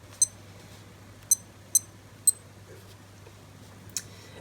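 Several short, high-pitched electronic button beeps from a Casio AE-1200 digital watch, four in quick irregular succession then one more, sounding close and crisp against a quiet background.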